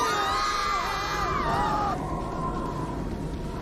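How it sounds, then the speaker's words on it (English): Screams from a crowd of people in the video game Umineko When They Cry ring out loud and sustained, several overlapping wailing voices sliding in pitch before thinning into a single lingering cry. "Real screams burst out."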